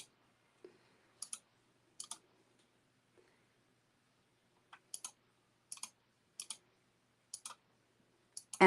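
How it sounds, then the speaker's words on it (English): Taps on an iPad's on-screen keyboard arrive as sparse, crisp clicks, some in quick pairs, spread across a near-silent room. "my keyboard doesn't work on my iPad, so I have to use the on-screen keyboard, which is really horrible."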